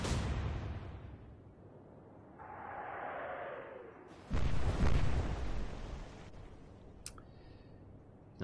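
Ship's guns fire a salvo in the naval video game Atlantic Fleet, Battle of the River Plate: a sharp blast opens, a rumbling tail follows, then a second heavier boom rolls out, with a faint crack near the end.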